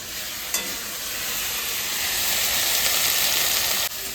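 Taro (kochu) sautéing and being stirred in a pan gives a steady, close, loud sizzle that holds evenly throughout, with a brief scrape near the start and end and no talking.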